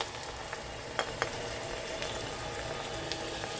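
Chopped onions frying in oil in a pan for arbi chicken curry, a steady close sizzle and bubbling with a few faint clicks of stirring, no voices.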